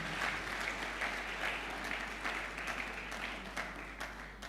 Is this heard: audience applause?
yes